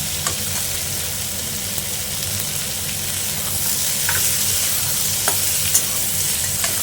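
Sliced bitter gourd and onions fry in hot oil in a pan, a loud, dense crackling sizzle that holds steady for several seconds, broken by a few sharp spatters and stirring clicks toward the end.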